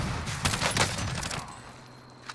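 Rapid gunfire from a Warzone firefight during a drop shot, a dense burst of shots loud in the first half then fading into quieter game ambience.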